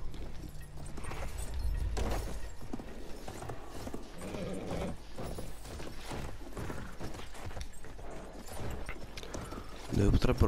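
Galloping horse hooves in Battlefield 1 thud in a steady rhythm under game mechanisms and effects, moderately loud throughout, with a louder burst at the end.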